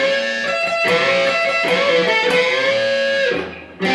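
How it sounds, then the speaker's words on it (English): Lead solo from a song played on electric guitar through a heavy distortion pedal at a slightly louder volume, a loud, sustained, saturated run of notes, close and alone, cutting off briefly near the end. "play it through on the heavier distortion pedal with a slightly louder volume"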